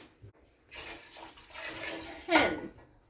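Tap water runs into a pot to make light syrup for preserving peaches, a close rushing stream that starts, swells and ends in a louder splashy surge, with a voice briefly before it.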